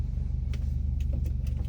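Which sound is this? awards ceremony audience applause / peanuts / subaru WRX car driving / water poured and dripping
subaru WRX car driving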